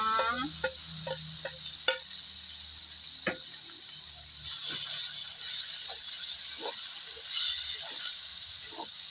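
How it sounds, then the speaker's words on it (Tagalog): Mixed vegetables tipped into a hot pan of frying garlic rice for sinangag, giving a steady sizzle and hiss with a few sharp scraping clinks of the utensil as the food is stirred. "ibubuhos na natin dito yung ating mix vegetables"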